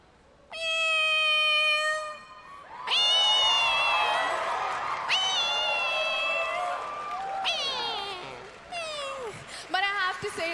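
A woman on stage at a Miss Universe pageant imitates a cat, voicing several long, loud, drawn-out meows one after another, with crowd noise and cheering in the background.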